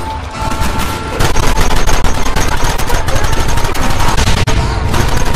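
Loud, dense automatic gunfire from a Red Dead Redemption shootout rattles continuously in rapid overlapping bursts, close and harsh, with no voices.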